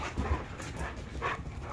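A bully breed dog pants close by in quick, breathy huffs over a few rough bursts, with no voices.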